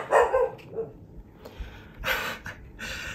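A puppy barks and yips several times in short, uneven bursts close by, with brief quieter gaps between the barks in an indoor room.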